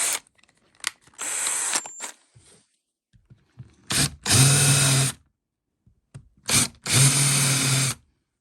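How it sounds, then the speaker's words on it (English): A power drill countersinks screw holes in wood, spinning in several bursts, short starts and longer sustained runs, with brief mechanical clicks between them and no talking. "We want to countersink the screws so they're nice and flush."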